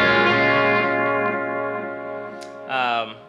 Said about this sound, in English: what you should notice right off the bat is that we've got a kind of a warbling sound happening.